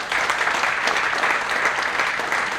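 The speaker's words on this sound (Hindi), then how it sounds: "इसके लिए एक बार जोरदार तालियां हो जाए।" A crowd claps loudly and steadily for a school-time friend at an LIC agency gathering, dense continuous applause with no voices over it.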